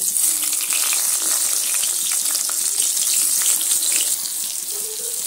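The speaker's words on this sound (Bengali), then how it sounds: "এবার সেই ম্যারিনেট করা বেগুনগুলো আমি তেলের মধ্যে একটা একটা করে দিয়ে বেগুনগুলো সুন্দর করে ভেজে নেব" Marinated eggplant pieces frying in hot oil, a steady loud sizzle and crackle that holds evenly, close up, easing slightly toward the end.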